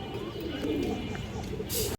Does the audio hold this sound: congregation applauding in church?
no